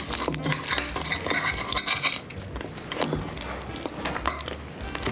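A knife cuts through crunchy pastry on a homemade fig tart, giving repeated crisp crackles and scrapes against a plate, close and fairly loud, with no talking.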